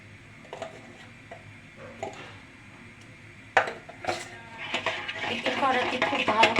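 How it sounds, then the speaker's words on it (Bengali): An egg for a chocolate cake is beaten with a hand whisk in a bowl, sparse clinks giving way to rapid, close rhythmic tapping and scraping that builds toward the end. "এখন আমি হ্যান্ডিস দিয়ে ডিমটা খুব ভালো করে ফেটে নেব"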